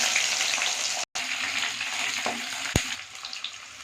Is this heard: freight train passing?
no